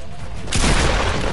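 A loud pump shotgun blast erupts midway through a Fortnite match, a sudden dense burst that holds strong and close for the rest of the short moment, with no voices.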